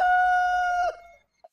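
A rooster crows once, loud and close, a long sustained tonal cock-a-doodle-doo that fades out, followed by a brief short cluck-like note.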